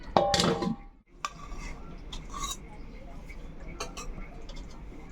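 A lid clinks onto a pan of shorshe posto ilish, mustard-poppy hilsa curry, with a bright metallic clatter at the start, then soft cooking noise and faint ticks continue.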